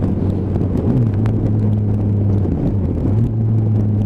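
A motorcycle engine under way while riding, compared to a ZZR, a loud steady rumble with shifting engine tones and a rising then falling pitch as revs change, with wind noise.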